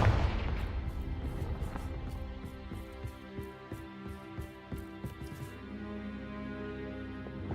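A Confringo blasting spell in Hogwarts Legacy, played on hard difficulty, bursts with a loud, booming blast at the start, which decays into a long, faint tail punctuated by soft, scattered pops.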